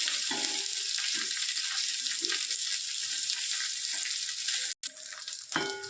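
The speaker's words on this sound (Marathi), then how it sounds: "आता हे बोंबील आपल्याला कमी गॅसवर फ्राय करायचे" Dried bombil fish fry on a low gas flame, giving a steady, dense sizzle throughout with a brief break near the end and a light clink of stirring just after.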